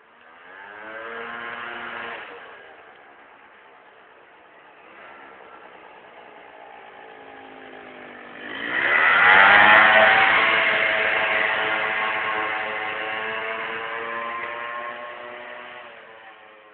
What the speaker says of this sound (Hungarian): Nem könnyen lehet lefogni ezt a motort.